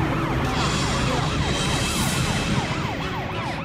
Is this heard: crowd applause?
no